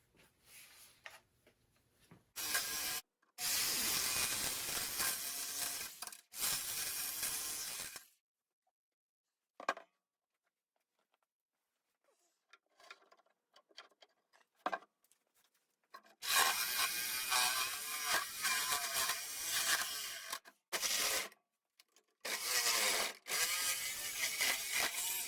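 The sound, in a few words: jigsaw with fine tooth blade cutting aluminum plate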